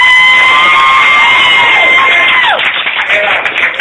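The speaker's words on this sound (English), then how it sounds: "give a big round of applause" A crowd applauds, cheers and whoops loudly for a child's closing dance, with high children's shouts and sustained clapping that wash over everything, fading slightly toward the end.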